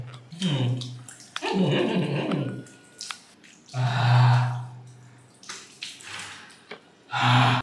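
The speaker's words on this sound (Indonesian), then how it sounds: "Ya kita bilas ya" Water splashes and drips as a face is rinsed during a skincare routine, in irregular close bursts of sloshing and trickling separated by short quiet pauses.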